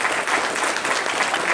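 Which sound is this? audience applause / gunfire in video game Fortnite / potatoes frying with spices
audience applause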